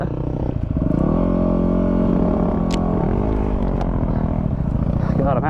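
Small Yamaha WR dirt bike engine running steadily while riding at night, a loud continuous harmonic drone with pitch shifts as the throttle changes, a brief rise in revs near the end.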